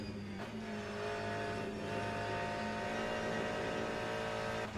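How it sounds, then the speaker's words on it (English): Hypercar in Le Mans Ultimate, a strained, steady engine whine from a racing car at speed, close and loud, with a brief shift in pitch near the start and end. "There's a hypercar behind."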